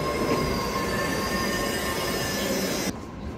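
Train at a station, a loud continuous rumble of rail cars with metallic wheel squeal and hiss, steady throughout before dropping off abruptly near the end.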